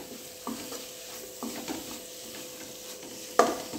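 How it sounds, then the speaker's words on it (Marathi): Paneer frying in spice masala for paneer bhurji, a soft continuous sizzle under occasional scrapes of a spoon stirring in the pan, ending with a louder clink against the pan. "हे पनीर आता व्यवस्थित असे मसाल्यामध्ये फ्राय करून घ्यायचे आहे।"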